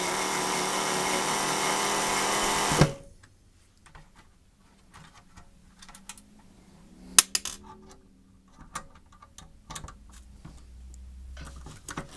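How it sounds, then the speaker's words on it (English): A power tool whirs steadily for about three seconds while removing screws from a computer monitor, then stops abruptly, followed by scattered clicks, clinks and small handling noises of metal parts being moved, close and fairly quiet. "Let's remove some more screws and metal to get to the inside of this thing."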